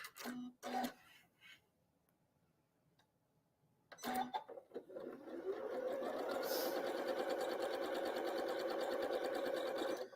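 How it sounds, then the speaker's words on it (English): A sewing machine stitches a Carpenter Star quilt block, starting with a couple of brief taps and then running in a steady, loud, continuous whir for the second half. "So I'm going to sew that right now while I'm thinking of it."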